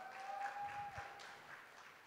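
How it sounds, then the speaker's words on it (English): Faint applause from an audience at a film press meet, a soft scattered patter that stays low and quiet for about two seconds. "So one round of applause for Jagdish"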